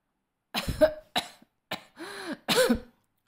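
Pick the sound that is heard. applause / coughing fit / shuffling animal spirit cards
coughing fit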